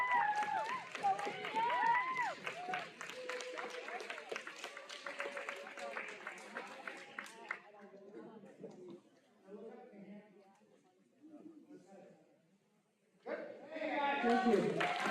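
Dense clapping from a school assembly audience for B+ students at an awards celebration, steady and moderately loud for several seconds, then fading into murmuring voices before a brief renewed burst.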